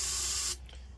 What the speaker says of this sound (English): So let's hit the boost button and choke on starter fluid.